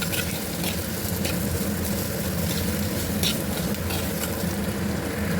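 Large onions with a little salt sizzle steadily in a hot pan for a prawn curry, a close, continuous frying crackle with occasional scraping stirs and no talk.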